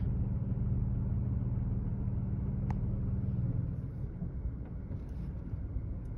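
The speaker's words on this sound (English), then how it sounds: "It was a nice takeoff." Airplane takeoff heard from inside the cabin: a steady low engine rumble and drone, with a tonal hum that fades after a few seconds to a quieter rushing noise, and faint sounds in the background.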